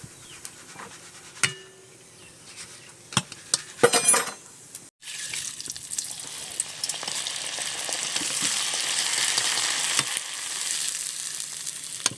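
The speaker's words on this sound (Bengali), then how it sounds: "এভাবে করে আমি সব চালগুলো ভেজে নেব। তেলটা সবসময় কিন্তু হাই হিট রাখতে হবে।" Basmati rice fries in hot oil on high heat; a few clinks and utensil taps come first, then a bright, steady sizzle builds and holds close up without speech.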